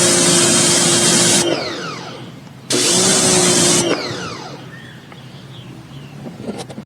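A pressure washer sprays through an orange nozzle in two loud, hissing bursts, each lasting over a second with a brief pause between, followed by fainter dripping and spattering as the spray stops.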